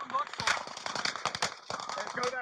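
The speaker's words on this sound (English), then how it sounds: "where the gunshots were coming from" Rapid crackling bursts of gunfire during the Las Vegas shooting at Mandalay Bay, sounding as sharp volleys in an irregular stream, with voices shouting and talking throughout.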